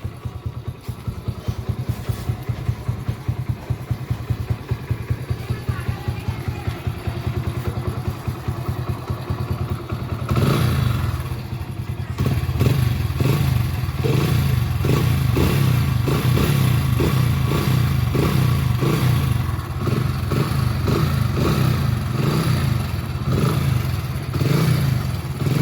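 A motorcycle just washed and then started runs steadily, its engine thrumming close and loud with a rapid rhythmic clatter that grows stronger and rougher about halfway through.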